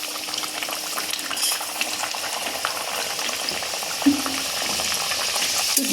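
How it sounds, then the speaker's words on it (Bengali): Pea kachoris fry in hot oil, giving a steady, close bubbling sizzle that runs through the whole clip, with a few soft splashes and a single brief clank. "পুরো ঝামেলা ছাড়াই কিন্তু কচুরিগুলো যে বানিয়ে রেখেছি সেগুলো ছেড়ে দিচ্ছি।"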